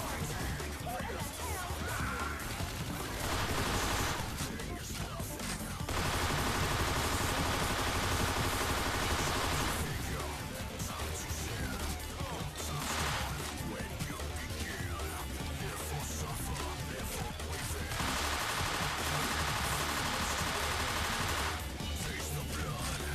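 Video game gunfire in dense, continuous bursts of rapid shots and crackling blasts, loud and close, with a voice talking over parts of it.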